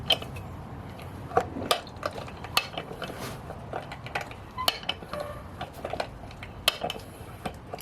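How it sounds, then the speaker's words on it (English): Oil is hand-pumped through an opened valve into the DSG transmission of a 2011 VW Tiguan 2.0 TSI: irregular metallic clicks, ticks and light clanks from the pump and fittings, close by with no talking. "let's pump the oil"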